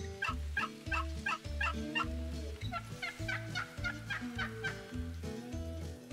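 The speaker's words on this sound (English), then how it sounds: "we just got a response out of those turkeys" Eastern wild turkeys gobble in the fields of Mississippi: several rattling gobbles come in quick repeated bursts, some overlapping, at moderate distance with no voices.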